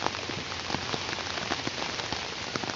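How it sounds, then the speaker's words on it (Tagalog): Steady rain pattering on a surface, a dense continuous hiss of drops with no voices. "patuloy po ang ulan at wala pong tigil"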